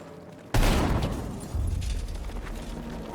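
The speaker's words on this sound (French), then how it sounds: "J'envoie une grenade." A grenade detonates in the video game Battlefield 6, a sharp booming blast after a brief quiet lead-in, followed by a rumbling tail and a second heavy burst under the decaying roar.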